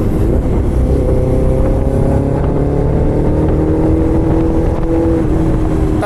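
Honda CB400 motorcycle engine misfiring, a loud, close, rough idling rumble with uneven, sputtering pulses and slight pitch wavering throughout.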